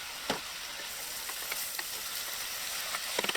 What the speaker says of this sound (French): On regarde pour une bonne ébullition